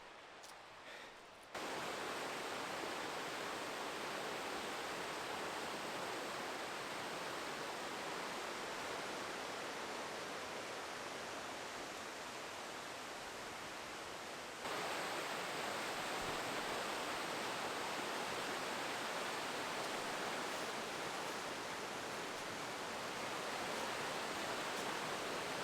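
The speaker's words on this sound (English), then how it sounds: "Dang, that's a nice waterfall down there." A waterfall seen from a spring backpacking trail on the Old Loggers Path, a loud, steady broadband rush of falling water that fills the whole clip, briefly dipping and then swelling again partway through.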